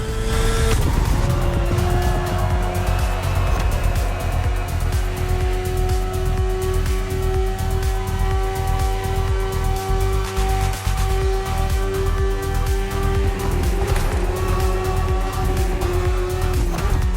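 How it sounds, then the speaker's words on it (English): A BMW S1000RR superbike ridden in The Crew Motorfest video game: a loud, steady engine drone runs throughout, with a few shifts in pitch and bursts of tyre squeal. No one speaks. "The one you're riding is the S1000RR. It's what we call a superbike."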